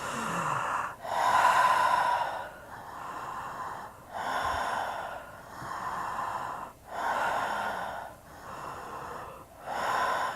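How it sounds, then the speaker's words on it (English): Slow, deep breaths during a conscious connected breathwork session, about seven or eight rhythmic airy inhales and exhales, close and fairly loud, alternating with brief pauses. "And you would continue breathing."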